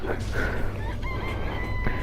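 A chicken in the Danganronpa video game crows over a steady, dense game background.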